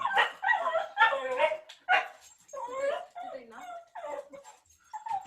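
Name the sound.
dog whimpering and barking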